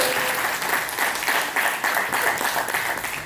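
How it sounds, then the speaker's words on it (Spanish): Wedding guests break into applause after the bride's vows, a full, continuous round of clapping from a gathered crowd with slight swells in intensity. "Aplausos de todos."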